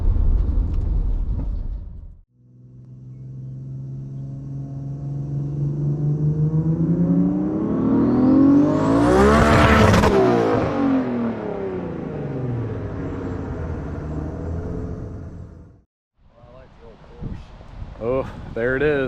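A Chevrolet Camaro engine is revved, its loud roar climbing to a peak and then sinking away before it cuts off, followed by a brief moment of people talking.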